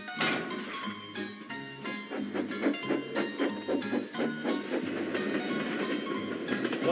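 A goods train is shunted by a small engine, giving steady rolling rumble and rhythmic clickety-clack of wagons over rail joints, loud and continuous throughout.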